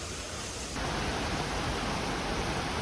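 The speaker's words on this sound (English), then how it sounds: "we have little baby waterfall right here" A small waterfall in a humid Monteverde forest in Costa Rica gives a steady, dense rushing hiss that swells louder after the first second and then holds constant, with no voices.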